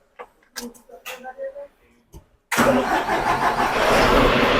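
A 130 HP, 4000 cc tractor engine cranks and catches after a few quiet voices, then settles into a loud, steady idle with a rumbling drone that holds to the end.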